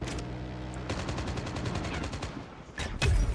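Silenced Franco gun firing in the Call of Duty Mobile video game: rapid bursts of muffled automatic shots in quick succession, loud and close, with a short pause before another burst.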